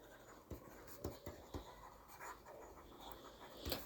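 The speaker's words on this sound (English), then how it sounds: "Let's write it down." A pen writes on paper in soft, close scratching strokes, with several sharper taps and scribbles spread over a few seconds, faint and alone.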